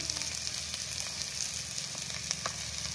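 Onion and dried chili frying in hot mustard oil seasoned with five-spice, a steady, close crackling sizzle with no talk.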